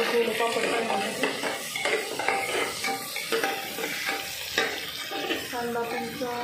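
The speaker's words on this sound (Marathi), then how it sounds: "कांदा पण चांगला भाजून घेऊया." Onion roasting in a pan in a home kitchen, a steady close sizzle under repeated scraping and clinking of a spoon stirring against the metal, continuous throughout.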